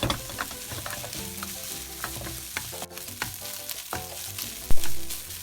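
Sausage fried rice with egg sizzles loudly as it is stir-fried in a hot pan, a steady frying hiss broken by repeated clacks of the spatula scraping and tossing, with one sharp knock near the end.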